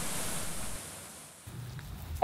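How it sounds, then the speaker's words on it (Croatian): Krčić waterfall on the Krka river gives a steady, faint broadband rush of falling water, continuous and distant with a slight dip partway. "Veličanstveni slap krčić."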